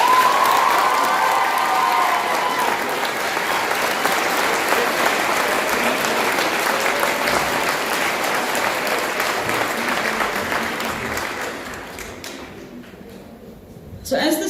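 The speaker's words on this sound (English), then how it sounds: "they deserve a big round of applause" An audience at a girls' high school valediction ceremony applauds the teachers, with loud sustained clapping and some cheering for about twelve seconds before it fades away.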